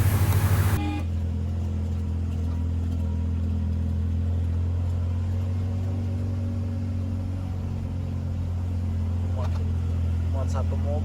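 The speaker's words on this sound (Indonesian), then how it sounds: "Seperti inilah, kalau ada mobil kita harus melipir ke pinggir agar bisa" A car passes on a narrow single-lane road in Ollon Valley, Tana Toraja, a steady close engine rumble holding throughout with a brief louder burst at the start.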